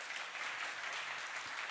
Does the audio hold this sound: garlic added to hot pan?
no